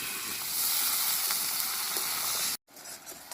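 Chopped tomato with spices and a splash of water frying hard for a vegetarian curry, a loud hissing sizzle that cuts out abruptly near the end, then returns more quietly.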